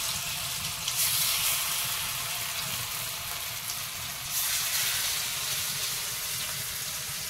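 Portions of a hand-placed mixture fry in hot white oil in a pan with a steady, dense sizzle and crackle. The sound is close and continuous, rising briefly in intensity, with no voices.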